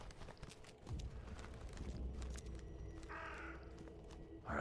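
Crows caw several times in The Sinking City video game, sharp calls over a dull ambient bed with some clopping footstep-like sounds, no speech.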